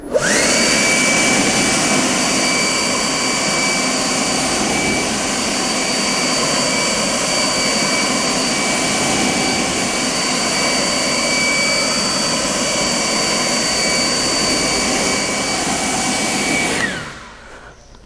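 Forced-air blower drying a freshly washed, coated car, a loud, continuous roaring rush of air with a thin steady whine that runs nearly the whole time, then winds down at the end.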